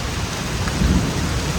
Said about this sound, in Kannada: ಮಳೆ ಎಲ್ಲ ಭಾಳ ಐತಿ.